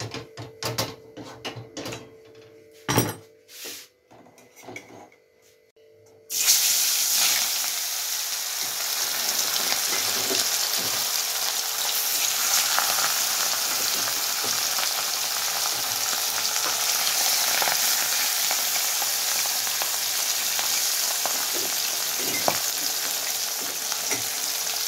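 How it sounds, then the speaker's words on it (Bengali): Fish frying in hot oil in a home kitchen, a loud, steady, dense sizzle that starts abruptly after a few seconds of quieter clatter and keeps going evenly to the end. "এখন মাছটা রান্না করবো। দেখো তেল গরম হয়ে গেছে।"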